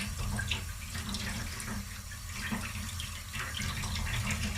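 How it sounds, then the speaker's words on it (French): Sea bass being rinsed under a running tap over a small sink, a steady close rush of water splashing onto the fish with shifting splatter throughout, no talking. "on le rince encore quand même"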